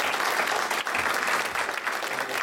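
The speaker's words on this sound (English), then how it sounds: "let's give him a big round of applause." An audience applauds steadily at a talk, dense continuous clapping filling the room for a few seconds with no voices over it.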